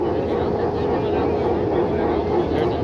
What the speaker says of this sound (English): There's a jet.